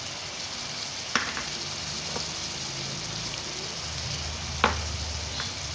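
Garlic ginger paste frying in a spiced masala for aloo methi, giving a steady close sizzle with a couple of sharp clinks from stirring, and no one speaking.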